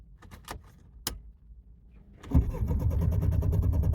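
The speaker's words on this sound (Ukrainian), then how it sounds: "Заводжу автомобіль." A Mercedes W203 2.2 CDI diesel car with a fuel-line leak and hard starting: keys jangle and click in the ignition, then the engine cranks and fires into a loud, close, rough idle.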